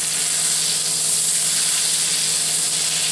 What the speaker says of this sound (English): I'll put the rest of my butter in.